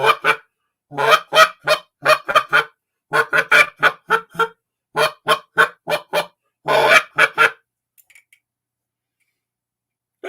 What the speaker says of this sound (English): This was my very first goose call. Old Ganderlander.